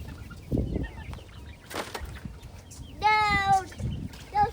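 Chickens on a farm cluck and call in short bursts at close range, including a loud harmonic squawk midway, with faint voices and outdoor background noise.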